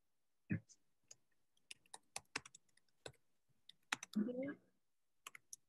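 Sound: typing on a computer keyboard

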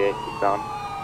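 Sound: police car siren in a police video game

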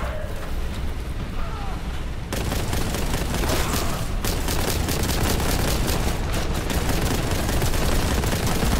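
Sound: gunfire from enemies in the video game Warhammer 40,000: Boltgun

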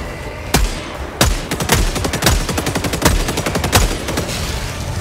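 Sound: weapons gunfire in Helldivers 2 video game

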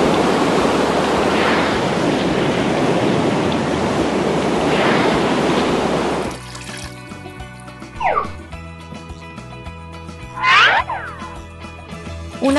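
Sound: water pouring down a waterfall

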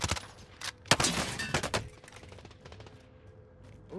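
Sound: gunshots from enemies in a video game

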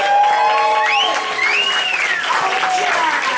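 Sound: audience applause for contestants

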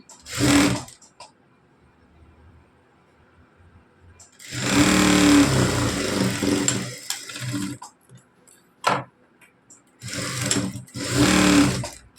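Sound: sewing machine stitching a blouse

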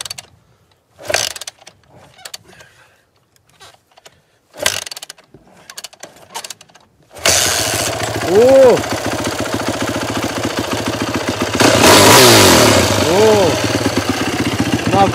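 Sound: WR motorcycle engine starting and idling

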